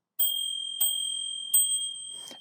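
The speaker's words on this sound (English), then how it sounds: "A very nice bell." A bright metallic bicycle bell on a Pedego Boomerang e-bike rings three times at an even pace, each ding sharp and ringing on, followed by a short rustle at the end.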